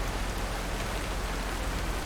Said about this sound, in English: hopefully it's done raining by the time we get to Houston